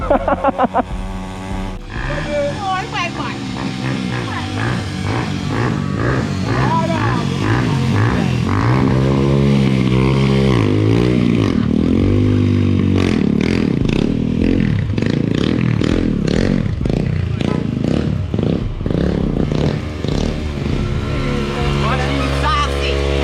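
A 50cc mini dirt bike's small engine buzzes and revs up and down close by, rising and falling in pitch with rattling and scraping, while people talk and shout over it.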